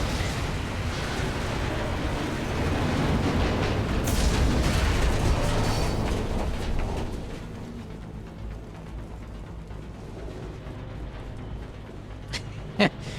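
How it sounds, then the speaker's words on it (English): Heavy rumbling explosions from the video game Mass Effect 2 fill the first half, loud and sustained, then fade to a quieter game background with a couple of sharp pops near the end. "Explosions in the sky."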